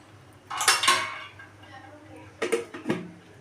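A bowl of batter being covered in a home kitchen, with two clattering bursts of dish and utensil contact, the first longer and the second a quick pair of knocks, close and fairly loud.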